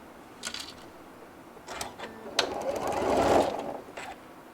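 A sewing machine stitching down a hat brim runs in short bursts of rapid mechanical clatter, stopping and starting, with one longer, louder run near the end.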